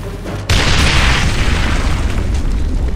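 Grenade blast in the PS3 shooter Ghost Recon Advanced Warfighter 2: after a half-second of quiet, one sudden loud boom that rolls into a long, dense rumble and debris noise filling the rest of the clip.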